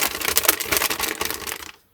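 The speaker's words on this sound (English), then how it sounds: "don't have your paper rustling next to the mic" Paper crinkles and rustles close up in a rapid, crackly burst that lasts under two seconds and then stops abruptly into silence.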